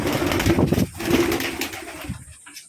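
Pigeons coo close by at a cage holding a pet pigeon and a wild pigeon, soft low repeated coos rolling over each other for a couple of seconds before fading into quiet.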